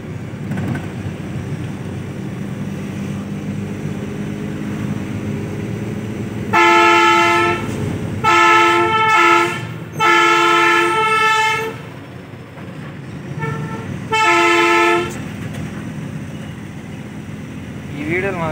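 Heavy air horns on a Tata Prima 2.5 ten-wheel truck blare in several long, loud, close blasts, some choppy and some sustained, separated by short gaps. A low engine rumble runs underneath between the blasts.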